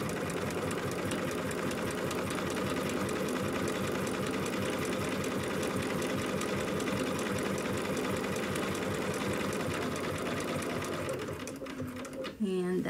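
A sewing machine runs continuously, stitching fabric for a dog's Fourth of July party outfit; the steady rapid needle hum fills most of the clip up close, then stops near the end as the piece is turned.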